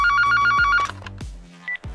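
A telephone rings in a series of quick, bright trilling bursts, loud and close, before cutting off and leaving a few scattered handling sounds.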